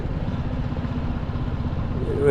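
Two motorcycles carrying four riders rumble close by as they ride past on the Kargil to Leh road in Ladakh, a low, steady growl that swells slightly at the end.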